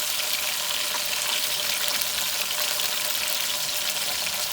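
Meat fries with onions in a pot for a shalgam gosht curry, a loud, continuous dense sizzle and crackle that stays steady throughout, close up and with no voices.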